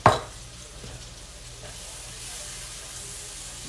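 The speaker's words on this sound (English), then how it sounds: "I'm going to go ahead and put my garlic in" Garlic dropped into a hot pan with onions fries with a steady, soft sizzle and hiss after a sharp opening clatter, continuing evenly throughout.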